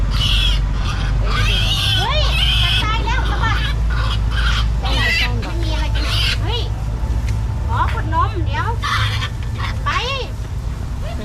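Grunting and squealing animal calls, likely pigs, sound repeatedly and close by, mixed with honk-like cries and voices talking in the background.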